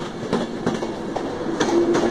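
Class 390 Pendolino electric train 390005 departs Carlisle, with rhythmic clickety-clack of wheels over rail joints and a faint squeal, heard close and fairly loud.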